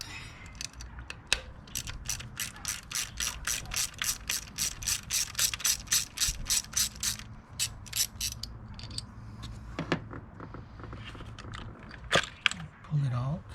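A socket ratchet loosening a bolt on a 2005 Toyota Corolla engine during valve cover work, a fast run of close, crisp clicks followed by slower scattered clicks and a metallic rattle.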